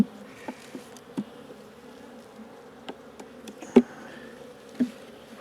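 Honey bees buzz in an opened hive, a steady close drone with brief louder passes as single bees fly near, with no voices.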